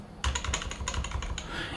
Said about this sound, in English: if I press A on the keyboard